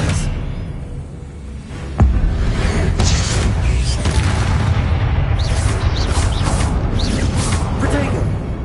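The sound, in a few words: Expelliarmus spell cast in the video game Hogwarts Legacy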